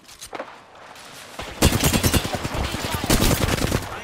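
Rapid automatic gunfire in a battle royale video game, bursts of sharp cracks that swell to a dense, loud volley in the second half, with a few scattered shots earlier.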